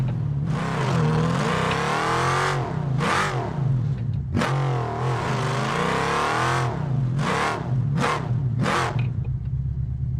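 Engine of a sand drag car in BeamNG Drive on a sand dune map, revving hard in repeated long bursts that climb and fall, cut by sharp throttle lifts, loud and close with no voices over it.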